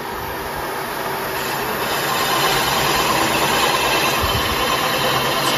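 A machining cutter spins on a Cosworth engine block, producing a loud, continuous whirring roar that swells slightly after a couple of seconds and holds steady, with no talking.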